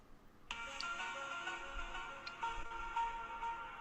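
A phone ringtone plays from a soundboard, a melodic electronic tone that repeats steadily for a few seconds at moderate, fairly close level, with no talking over it.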